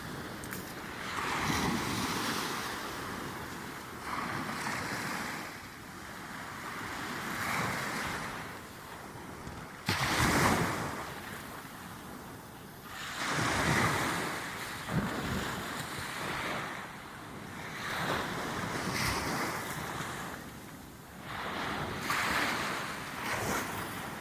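Loud ocean surf rolls and crashes repeatedly in surging waves on the shore, with wind buffeting the microphone throughout and no voices.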